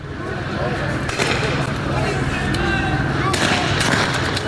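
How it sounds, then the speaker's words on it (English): Police fire non-lethal rounds at a man holding a hatchet, loud sharp reports over constant dense outdoor noise, with several distinct bangs spread through the stretch. "police officers shoot at him using non-lethal rounds"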